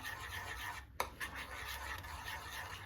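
A spoon stirs 30 g of oat flakes with milk, making soft, close scraping and rubbing sounds with a light clink near the start, continuous and quiet, with no voices.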